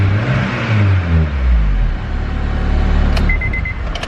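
A turbocharged K24 in a Honda Civic EP3 revs up, the loud engine note rising and falling in one swell before settling toward idle, with a faint high whine near the end.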